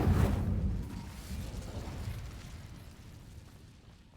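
A fire spell bursts in the Hogwarts Legacy video game, a single loud whooshing blast at the start that rolls into a rumbling, crackling tail and slowly fades over several seconds with no one speaking.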